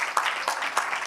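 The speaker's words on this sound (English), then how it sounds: "A round of applause." A crowd applauding, a steady wash of clapping with a few louder surges, fairly close and filling the short moment alone.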